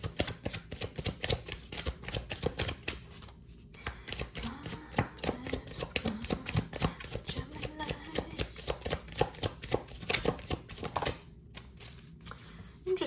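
Tarot cards shuffled by hand, a long run of rapid, crisp riffling clicks that pauses briefly twice before resuming, steady and close.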